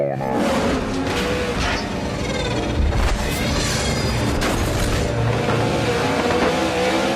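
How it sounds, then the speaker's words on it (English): A Dodge Charger engine blowing up in a Fast & Furious film scene, with a loud, roaring engine under sustained strain and bursts of mechanical noise. "Let's look at that engine blowing up."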